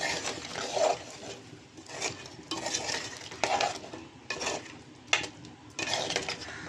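Chicken coated in ginger garlic paste is stirred in a pot for Andhra-style chicken curry. A spoon scrapes and clinks against the metal in repeated bursts over a faint sizzle.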